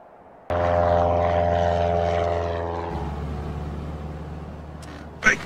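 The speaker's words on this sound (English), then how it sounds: "Unidentified aircraft approaching Isla Sorna." A propeller airplane in the Lego Jurassic World video game approaches Isla Sorna. Its engine starts abruptly with a loud, steady droning hum that slowly fades, and a short sharp noise follows at the end.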